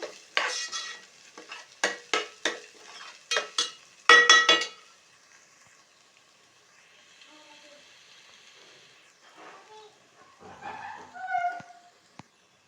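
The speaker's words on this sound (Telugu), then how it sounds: "ఆ పచ్చి వాసన అంతా పోయేంత వరకు వేపుకోవాలి ఆయిల్లో." Ginger garlic paste and onions frying in oil get stirred, with a string of sharp scraping strokes at the start, then a quiet sizzle and a few more clinks and scrapes later on.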